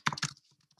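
Computer keyboard typing during a LaTeX document tutorial: two quick bursts of close, crisp keystrokes, then a few faint scattered taps trailing off.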